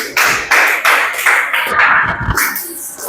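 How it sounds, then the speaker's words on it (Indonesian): Sixth-grade class clapping hands together in a classroom, a short burst of uneven clapping with a few louder thumps, close and brief. "kalian tepuk tangan"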